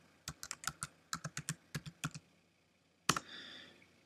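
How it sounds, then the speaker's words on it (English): Fingers tap out a username and password on a computer keyboard: a quick run of about a dozen close, crisp key clicks, a pause, then one louder final keystroke with a brief rattle. "Then you type in your username"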